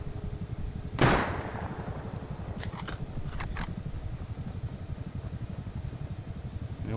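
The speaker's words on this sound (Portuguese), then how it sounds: "Agora que você ouviu o tiro?" A single sharp gunshot in the video game Rust cracks out about a second in and rings into a fading tail, followed by faint clicks over a steady low background hum.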